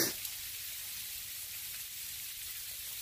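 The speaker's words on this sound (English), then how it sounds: "And that, my friend, is what you call sleet." Sleet falls steadily on frozen garden plants hung with ice, a continuous fine hiss and patter close by with no voices.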